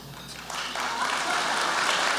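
An audience at an awards luncheon applauds, a broad wash of clapping that swells over a couple of seconds and holds steady.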